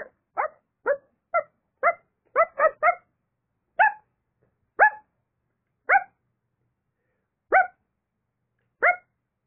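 Chihuahuas bark repeatedly in short, high yaps, a quick burst at first then spaced single barks, close and clear against silence.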